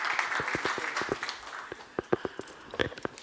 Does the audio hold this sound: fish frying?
no